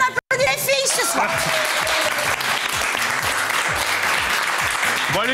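An audience on a French television talent show applauds in a dense, steady burst of clapping that stays loud and close throughout, briefly cut at the start.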